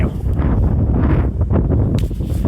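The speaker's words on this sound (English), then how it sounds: "I hope you can hear that as well, because it is windy." Strong wind on a hilltop roars and buffets against the microphone in heavy continuous gusts, loud and close, with no voices.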